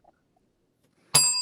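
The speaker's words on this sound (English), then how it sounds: "Nika, That deserved a bell." A single bell rung once at a film event, a bright struck tone that sounds suddenly after near silence and rings on as it fades.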